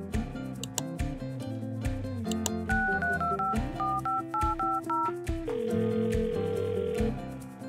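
A battery-powered toy mobile phone signals an incoming message with a run of electronic tones and beeps. A stepped melodic jingle plays close and loud and continuous for several seconds.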